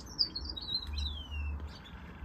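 Saint Helena waxbills chirping near bamboo by a nest, a few thin high twittering calls and a longer descending note, close and clear over a faint low rumble.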